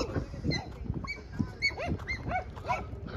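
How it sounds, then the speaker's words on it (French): Dogs barking and yelping intermittently at a moderate distance, scattered short calls over faint background noise. "Là-bas on a des chiens qui font un petit peu de bruit."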